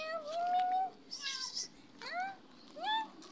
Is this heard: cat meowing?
yes